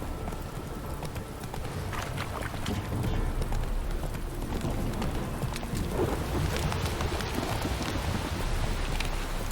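Horse hooves clip-clop steadily while riding in The Witcher 3, a continuous trotting rhythm under a rainy, rumbling backdrop, with no one speaking.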